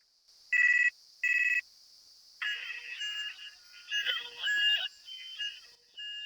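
A mobile phone's ringtone plays as a song, opening with two short bursts of melody, then running on as a longer tune with varying loudness. It carries clearly over a quiet background with no talk, in an Awadhi comedy setting.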